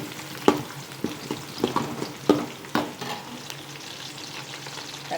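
Onion frying in hot oil with whole spices for a vegetable biryani, a soft continuous sizzle punctuated by several sharp clinks and scrapes of a ladle stirring the pot, no talking.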